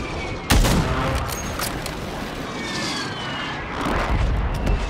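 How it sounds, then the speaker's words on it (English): Enemy gunfire in Call of Duty starts with a sharp crack, then a close, rattling burst of shots over a roaring, engine-like background, with a further flurry of shots near the end. "he's shooting at me"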